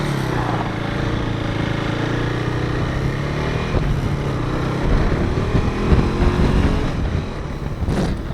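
A KTM RC390 motorcycle on a road ride in the UK, its engine droning steadily and close throughout, with a rougher surge near the end and a brief high hiss at the close. No speech.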